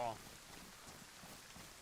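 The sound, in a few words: rain falling in video game DayZ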